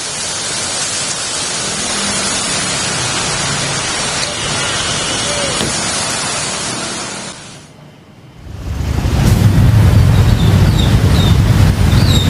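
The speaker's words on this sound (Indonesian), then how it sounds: "Kendaraan yang melintasi jalur ini harus mengurangi kecepatan akibat banjir." Traffic on a flooded Jakarta road after heavy rain, a dense roar of tyres swishing through standing water, dipping briefly before a louder, nearer rush with low engine rumble.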